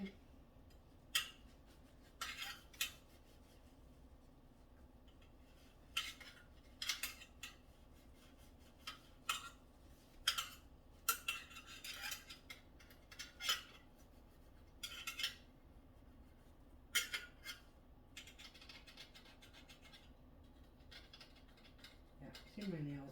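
Dishes and cutlery being washed by hand: quiet, scattered clinks and scrapes of metal and plates at irregular intervals over a low background hum.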